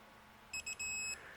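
A torque wrench signals reaching its target torque with a faint, high electronic beep: two short chirps followed by a longer held tone, over quiet background.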